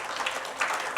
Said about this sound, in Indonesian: Tepuk tangan dulu dong, 800 loh.